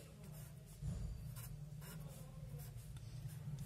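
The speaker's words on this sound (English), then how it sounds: "Let me draw the gate logic of this diagram." A pen scratching on paper while drawing a CMOS transmission gate logic diagram, soft repeated strokes over a faint low hum, quiet and close.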